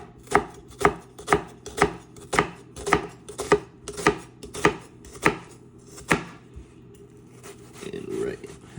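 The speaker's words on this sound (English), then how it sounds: "And we are dicing this onion nicely." A knife dices an onion on a cutting board at home, about a dozen sharp, evenly spaced chops close up, then slowing to scattered cuts and a scrape.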